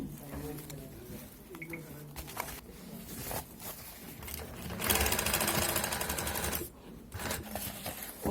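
A sewing machine stitches fabric in rapid mechanical bursts, starting and stopping in short runs with one longer steady stretch, close-up, while people talk nearby.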